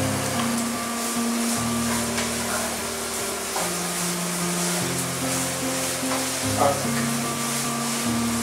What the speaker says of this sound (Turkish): 2 dakika bu domates salçasının kızartmasına